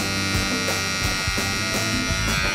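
Electric barber hair clipper running steadily before its blade is lubricated, a close, continuous buzzing hum with a slightly labored, uneven drone and no talk.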